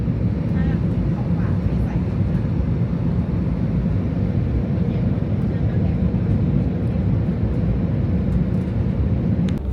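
Steady loud roar of an airliner cabin as the plane descends to land at Bangkok's DMK airport before dawn, a constant low engine and airflow drone with no breaks.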